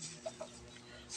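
Chickens being conditioned and fed corn give two short, close clucks over a low background murmur.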